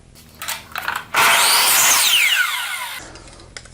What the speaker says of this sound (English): So I'm going to go make that cut on the miter box